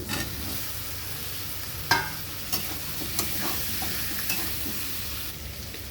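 Chopped tomato and boiled elephant foot yam being stirred in a frying pan, a low sizzle broken by a few sharp spoon knocks and scrapes against the metal.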